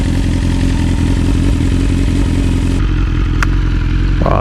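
A 2022 BMW S1000R sport motorcycle engine runs loud and close with a throbbing, rumbling idle, and a sharp mechanical click breaks in near the end.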